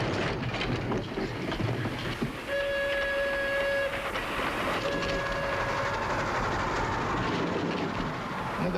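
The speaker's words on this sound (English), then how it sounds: "Another hospital train." A World War II hospital train rolls past with a heavy, continuous rumble and rattling wheels, while a sustained whistle tone sounds twice midway through the passage.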